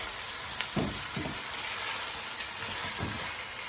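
Chopped onions fry in a pan for lamb with channa daal, giving a steady close sizzle with a few soft stirring knocks and no talk.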